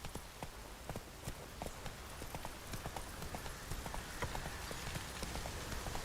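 Horse hooves clip-clop at a steady walking pace in The Witcher 3, each footfall distinct and close, with a faint ambient hiss beneath and no talking.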